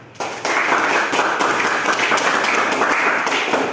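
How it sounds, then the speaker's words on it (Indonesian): Classroom applause from a group of automotive engineering students at a teaching performance assessment, a steady dense patter of clapping holding throughout after a brief quiet start, fairly close and loud. "berikan tepuk tangan"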